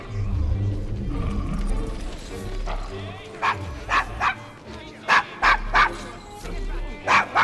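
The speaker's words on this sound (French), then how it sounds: "Votre chien a l'air fâché." An angry dog barks repeatedly in Assassin's Creed Syndicate, a series of sharp, loud barks in irregular bursts that follow a stretch of background talk and game ambience.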